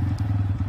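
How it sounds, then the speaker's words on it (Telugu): A 2023 Bajaj Pulsar N160 motorcycle engine runs close by, giving a brief, even, rapidly pulsing putter. "ఇంజన్ సౌండ్ బాగుంది"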